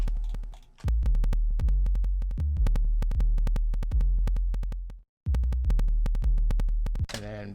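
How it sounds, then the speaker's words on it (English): Deep 808 bass notes in a hip-hop beat thump in a steady rhythm, each hit booming and decaying under sharp drum hits, with a short dropout near the end before the pattern resumes; no one speaks. "So these are my actual 808s."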